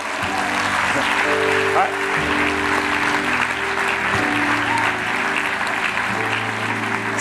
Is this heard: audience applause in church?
yes